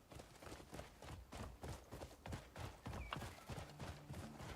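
Horse hooves galloping in the video game Crimson Desert, a rapid, even run of clip-clop beats, fairly close and moderately quiet.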